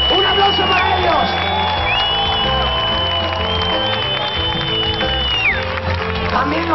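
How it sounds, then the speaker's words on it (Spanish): A concert crowd at a rock gig in a Seville auditorium cheers and applauds steadily, with whoops and shouts over ringing amplified music and a sustained feedback-like tone. "¡Un aplauso para ellos!"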